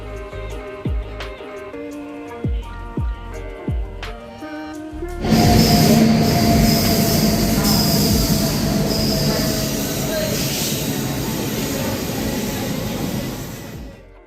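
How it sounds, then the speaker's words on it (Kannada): A train at Tumkur railway station rolls in with loud squealing wheels and a rumbling, clattering roar that swells and then slowly fades, after a brief run of plucked, tonal notes at the start. "ಈಗ ಇನ್ನೊಂದು 10 ಮಿನಿಟ್ಸ್ಗೆ ನನ್ನ ಶಿವಮೊಗ್ಗ ಟ್ರೈನ್ ಇದೆ"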